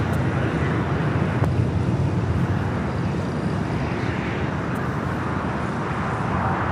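A heavy Airbus A330 jet departs at LAX, its engines making a steady, loud, broad roar that fills the whole stretch with rumbling low end and hiss, blurred by wind on the microphone.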